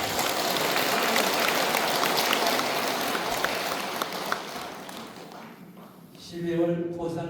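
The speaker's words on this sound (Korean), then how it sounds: "모든 분들께 큰 찬탄의 박수 부탁드립니다" Audience at a Buddhist Dharma assembly applauding in a sustained, even clapping that fades out, followed by a voice speaking.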